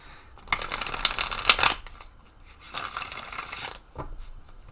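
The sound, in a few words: shuffling tarot cards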